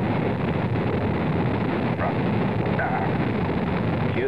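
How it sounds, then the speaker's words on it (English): Apollo 16 Saturn V rocket engines roaring at liftoff from the launch pad, a dense, continuous broadband rumble that stays loud and steady throughout without a break. "The Saturn V lifting off the tower"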